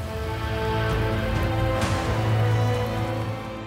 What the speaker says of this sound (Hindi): गुजरात के नवसारी शहर पर ये मूसलाधार बारिश किस कदर मुसीबत लेकर आई है